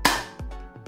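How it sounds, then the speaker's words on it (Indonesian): An XYL CA870 gel blaster fires in a shooting test, making a sharp, close snap with a short ringing tail, followed by two softer knocks. "Okay, tembakan kedua."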